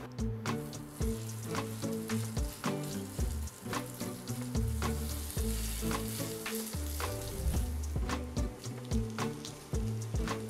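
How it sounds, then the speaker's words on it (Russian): Potato pancakes (draniki) frying in a pan, with steady crackling oil sizzle and frequent scraping, stirring knocks from a utensil, close and without talk. "Точно так же обжариваем все остальное"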